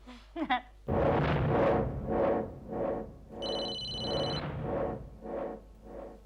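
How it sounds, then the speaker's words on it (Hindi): A phone ringtone plays a repeating melodic pattern, loud and steady, with a brief higher beeping tone layered in partway through. "ये आपका फोन बज रहा है"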